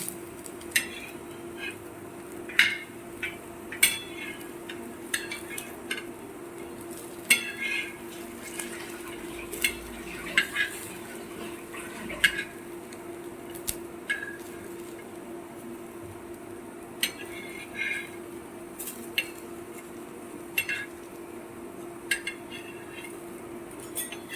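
Coriander leaf vadas shallow frying in a pan of oil while being turned, a quiet background hiss broken by sharp metal utensil scrapes and clinks against the pan at irregular intervals.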